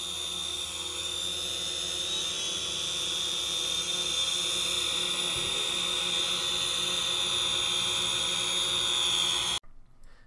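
A Syma X500 folding drone hovers nearby with a steady, high-pitched whining buzz of spinning rotors that holds evenly for about nine seconds, then cuts off abruptly near the end.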